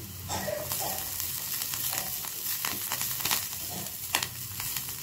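Coriander leaves frying in hot oil in a tempering pan for gongura rice, a steady, fairly loud close sizzle and crackle with occasional sharper pops, with no one speaking over it.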